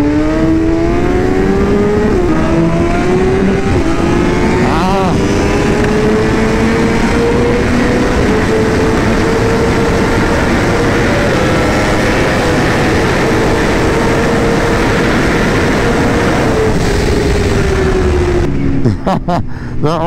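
Superbike engines, a BMW M1000RR and an Aprilia RSV4, accelerating hard with loud rising engine whine and wind roar close by, sustained throughout the clip before easing at the end.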